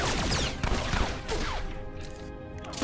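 Interrogation droids fire in Star Wars: The Old Republic, a dense burst of rapid blaster shots that is loud at first, then thins out and fades toward the end.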